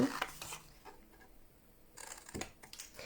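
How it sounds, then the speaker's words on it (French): Scissors cutting a cardboard Ferrero Rocher box, a few short snips spread out over a few seconds, close and fairly quiet, with someone talking in places. "on va prendre ces ciseaux et on va venir couper tout ce qu'on n'a pas besoin"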